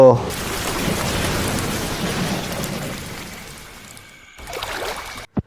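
Steady rain pours down at night around a boat, with a dense hiss and low thunder-like rumble that eases toward the end before a brief gap and one short final hit.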